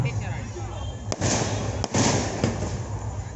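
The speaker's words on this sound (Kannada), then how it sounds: "ಪಟಾಕಿ ಸದನ ಕೇಳಿಕೊಂಡು ದೀಪಾವಳಿ ಹಬ್ಬ ಅಂತ ಅನ್ಯತಾ ಭಾವಿಸಬೇಡಿ" Firecrackers burst at an outdoor kabaddi match in Doddaballapur, with loud sharp cracks and a crackling rush, about three distinct bangs, while a commentator talks over the noise.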